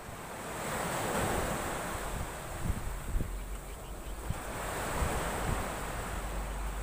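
Open-sea waves crash onto a rocky shore in a steady, rolling wash of surf, with gusts of wind buffeting the microphone and a few low thumps of breaking water.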